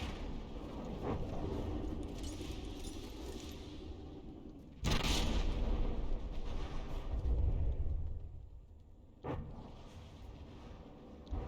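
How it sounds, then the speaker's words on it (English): Big Daddy Daka's guns fire during a frigate battle in the game From The Depths, heavy booming blasts over a constant low roar, with a loud burst near the middle and another a few seconds later. "I do like the sound, the sound of Big Daddy Daka's guns firing it just sounds nice to me."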